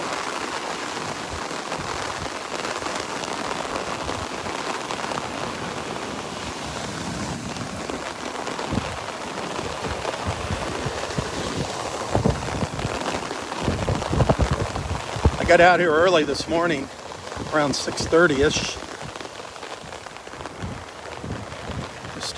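Rain pattering steadily on an umbrella at Vanderbilt Beach in Naples, Florida, during a tropical storm, with tiny waves barely audible beneath; someone talks over the rain throughout, and the patter swells louder in the final seconds.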